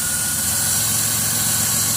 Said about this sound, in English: You can listen to the engine run here.